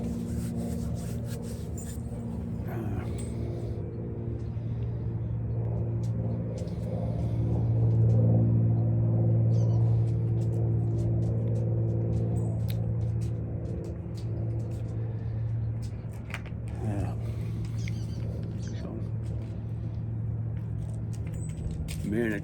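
A truck engine rumbles low and steady for a long stretch, swelling louder in the middle, with someone talking intermittently over the drone.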